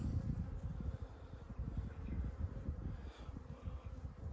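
A honeybee colony buzzes steadily and densely during a hive transfer, a close, continuous low drone with fluttering wingbeat texture and no speech.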